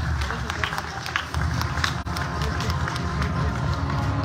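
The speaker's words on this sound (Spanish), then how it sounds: "Un fuerte aplauso" An audience at a school graduation ceremony gives sustained applause for a student receiving an award, with dense clapping throughout and a voice speaking over it.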